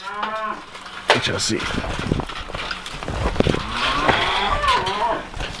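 A cow on a beef farm lets out several loud, drawn-out moos, close by, while someone talks briefly between the calls.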